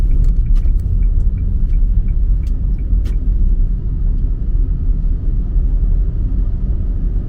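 Steady low engine rumble from a manual car pulling away and shifting from first into second gear, heard from inside the cabin with a few light clicks early on; no talking.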